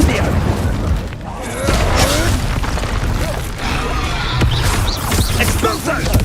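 Incendio fire spell cast repeatedly in the Hogwarts Legacy video game on hard mode: loud whooshing bursts and booming blasts of magic combat, dense and continuous, with character voices shouting over the effects.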